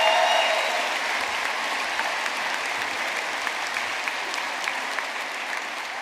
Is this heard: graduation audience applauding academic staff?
yes